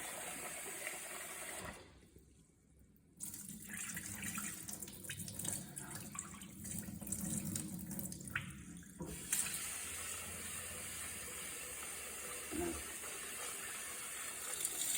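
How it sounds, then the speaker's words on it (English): Water drained off rice soaked for nearly a day for Persian baghali polo: a steady sink-like rush of pouring water, briefly dipping twice, then settling into a continuous hiss with a few faint knocks. "I'm just draining the water from the rice now that has been soaked for about a day almost."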